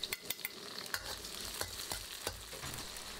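Spices, dried chilies, Sichuan peppercorns, ginger, garlic and scallion pieces stir-fry in rapeseed oil and lard in a wok over medium-low heat, with a steady close sizzle and repeated scraping strokes from a spatula.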